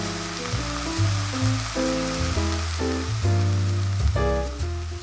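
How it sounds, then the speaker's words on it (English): Steak sizzles in hot beef tallow in a pan, a steady, close crackling hiss that runs through the whole stretch under louder tonal background sounds. "We should hear a nice sizzle when this goes into the pan."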